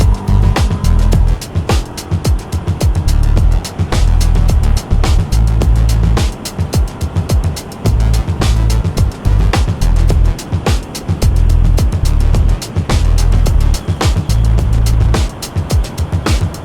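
A Royal Enfield Guerrilla 450 motorcycle rides along a road, a steady low engine drone under loud, choppy wind buffeting that pulses through the whole stretch, with no talking.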